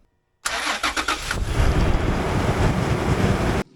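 A fifth-generation Toyota 4Runner engine cranks and fires up after a drive belt change, then settles into a loud, steady idle close to the microphone with wind noise and no talking.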